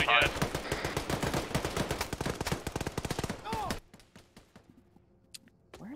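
A PKM machine gun in the Squad video game hammers out a long sustained burst of rapid, evenly spaced shots, loud and close, then stops abruptly, leaving quieter sparse sounds and brief speech.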